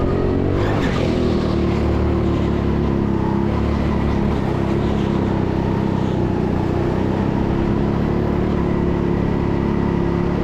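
Go-karts race around the indoor TeamSport Sheffield track, a steady close engine drone with rising and falling revs that continues loud and unbroken throughout, with no talk.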